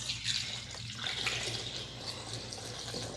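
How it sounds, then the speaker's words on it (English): Coolant is poured sideways in a smooth stream while servicing the inverter and engine cooling system of a Toyota Prius C, giving a continuous close liquid gurgle and trickle throughout, with no speech. "See a nice smooth pour out of it."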